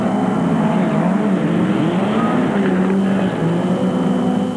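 Racing trucks, Fords and a Castrol Toyota Hilux, roar past in an off-road race, a loud continuous engine drone with shifting pitch as the vehicles chase each other.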